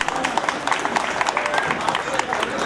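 Audience clapping at a 75th Independence Day ceremony at the Banaras Locomotive Works in Varanasi, a dense, steady round of applause from a close crowd, with a voice audible over it.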